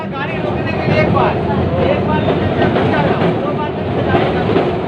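A tram rumbles along its tracks into the Dharmatala tram depot with steady rattling and clatter, loud and close, while people talk over the noise.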